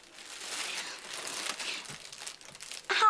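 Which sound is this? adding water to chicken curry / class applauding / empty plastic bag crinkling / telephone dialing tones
empty plastic bag crinkling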